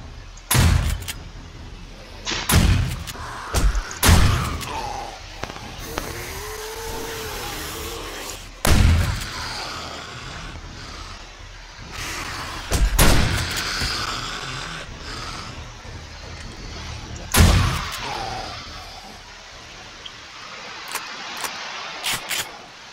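Shotgun blasts in the zombie survival game 7 Days to Die, several loud, sharp booms spaced irregularly across a quieter background, each followed by a short rumbling decay.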